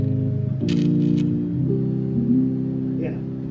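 Three sustained major chords step upward by whole tones in a classic video game music cliché, each held for about a second, loud and close.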